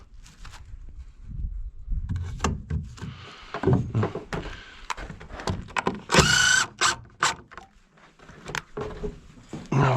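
A power drill drives a screw into timber while propping lintel formwork on a building site, heard as short whirring bursts near the middle amid knocks and handling clatter, with no talk.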